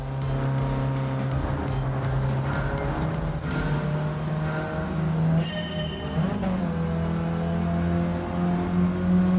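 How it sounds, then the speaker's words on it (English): A racing car engine in Gran Turismo 7 hums and revs through gear changes, with steady tonal whine rising and falling over several seconds, loud and continuous with no talk. "is the engine loud enough"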